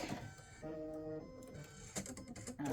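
An embroidery machine stitches white thread on a turkey applique block, a soft mechanical whir with a steady buzzing tone and light ticking, heard up close and alone.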